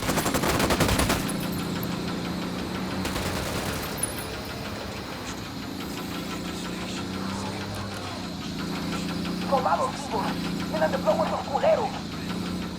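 Gunfire in the console shooter Ghost Recon on PlayStation 5, with two loud bursts of rapid shots early on, then a steady engine-like drone while voices talk over it.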